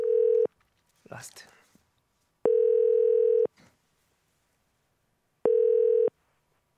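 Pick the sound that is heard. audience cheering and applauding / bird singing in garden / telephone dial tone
telephone dial tone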